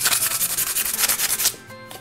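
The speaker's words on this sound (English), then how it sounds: "so we're just gonna give this a light sand." A live edge wood board gets a light hand sanding, a steady rhythmic scratchy rubbing of close, even back-and-forth strokes that stop abruptly near the end.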